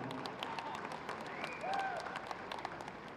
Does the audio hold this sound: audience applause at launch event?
yes